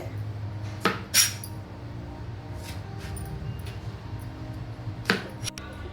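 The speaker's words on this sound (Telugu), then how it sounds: "ఇప్పుడైతే మనం పచ్చడికి దొండకాయలు అయితే కట్ చేసుకోబోతున్నాం" A knife cutting ivy gourds (dondakaya) for chutney, producing a few sharp, sparse clicks and taps against a plate or board amid a low steady background hum, close and without talk.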